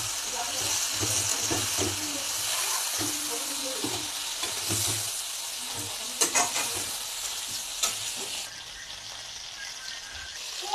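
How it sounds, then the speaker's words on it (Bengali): Pointed gourd, rubbed with salt and turmeric, fries in oil left from frying prawns on a low gas flame, with a steady close sizzle broken by scraping stirs and a few sharp clatters. "চিংড়ি মাছ ভেজে রাখা তেলের মধ্যে নুন হলুদ দিয়ে মেখে রাখা পটলগুলো ভেজে নেব।"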